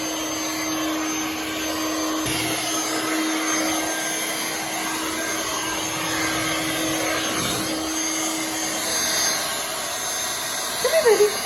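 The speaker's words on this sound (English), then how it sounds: "Let's blow dry her." A hair dryer blows steadily on a dog being dried after a purple dye job, a loud, constant close-up whoosh that runs unbroken throughout.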